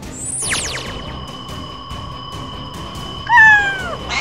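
Cartoon cat meows loudly in an animation: a couple of high, sliding cries up front, then a sustained tonal whine with a brief louder yowl near the end, with no talking.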